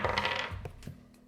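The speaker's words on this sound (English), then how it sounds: "Let's let the dice decide." Dice tossed onto a table, a brief clatter of hard tumbling clicks that settle and fade within about a second, quiet and close, with no talking.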